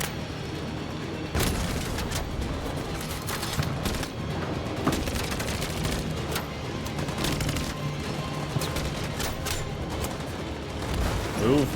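Repeated gunfire in a firefight in the video game Detroit: Become Human, a dense run of shots and impacts running throughout, with a few sharper cracks standing out over the constant combat noise.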